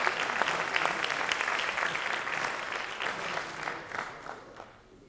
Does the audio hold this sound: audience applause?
yes